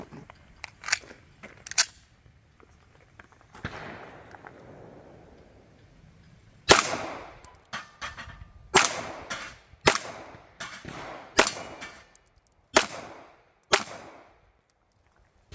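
A Sig Sauer P320 X-VTAC pistol fires at steel targets at 15 yards, about a dozen sharp, fairly faint cracks in an irregular string, with a cluster of quick shots toward the end.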